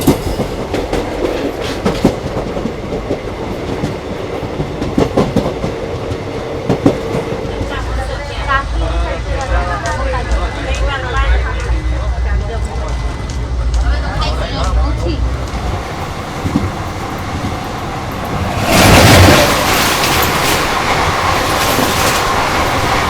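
Intercity Express train running on the rails along a bypass line, a continuous rumbling roll with rhythmic wheel clatter and a louder surge near the end, heard from onboard with a voice talking over it.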